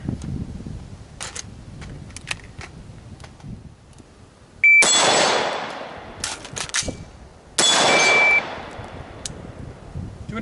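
Rifle shots on a shooting range: two loud, sharp reports about three seconds apart, each trailing off in a ringing decay, with quiet handling noises between them and no talking.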